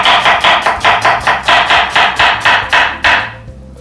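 A kitchen knife fast-chopping an onion on a cutting board for pineapple salsa, a quick, even run of about a dozen crisp, loud knocks that stops abruptly near the end.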